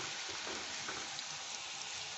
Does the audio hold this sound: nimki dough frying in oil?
yes